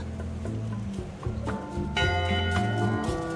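Ship's bell in Return to Monkey Island, a few bright metallic clangs whose tones ring on over a busy background of low tapping and music-like tones, moderately loud with no talk.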